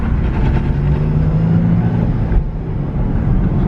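Nissan 370Z with a welded differential doing donuts, its engine droning loudly and steadily at a held rev with a throaty, sustained tone and a slight dip partway through.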